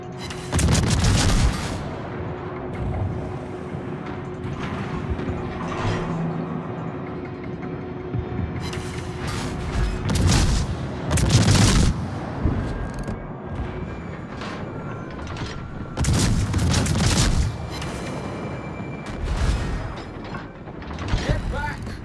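Naval guns on warships firing in World of Warships, repeated booming salvos with mechanical turret clanks and ratcheting over a continuous ship rumble, dense and loud throughout.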